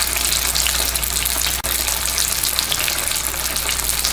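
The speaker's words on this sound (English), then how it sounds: "So we're going to do a shallow fry." Wrapped Korean BBQ rolls shallow fry in hot oil at 350 degrees, giving a loud, continuous close-up sizzle with a dense crackling hiss and one brief break.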